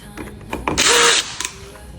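A power drill backs the screws out of a Kwikset deadbolt during a lock replacement, giving one sustained whirring burst of about half a second at close range, with brief quieter tool noises before and after.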